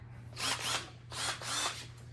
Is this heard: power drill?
yes